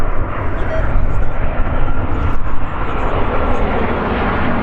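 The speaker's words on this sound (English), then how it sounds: "This was the Ryanair plane that just literally made his go around." A Ryanair jet climbing away after a go-around at Stansted Airport, a loud continuous broadband engine roar filling the whole stretch, steady with slight fluctuations as it passes nearby.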